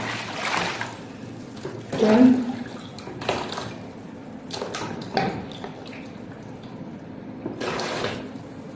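Water is poured in several separate splashing bursts while being measured in liters for making liquid soap, close by, with a person speaking briefly between pours.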